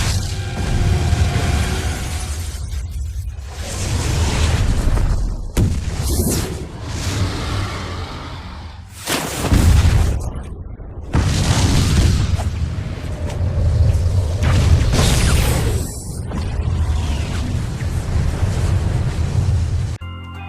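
Deep rumbling blasts and crashing debris from a film explosion roar in long surges, loud and close, with whooshing noise between bursts and no speech.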